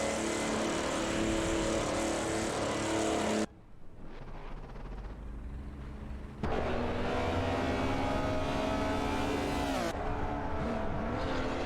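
Race cars in an AI racing video game roar at full throttle, the engine noise dipping briefly and then surging back loud and steady with no talk over it.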